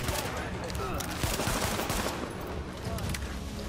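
Short bursts of automatic gunfire in The Division, a shooter video game, crackle in a dense, steady barrage that fills the whole stretch with no pause.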